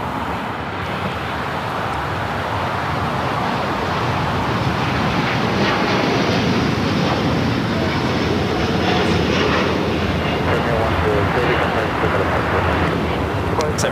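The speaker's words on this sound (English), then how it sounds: "Air Premia heading back to Seoul on that Dreamliner" A Boeing Dreamliner jet of Air Premia departing LAX for Seoul gives a loud, sustained engine roar, a broad steady rush that stays constant throughout, with people talking over it.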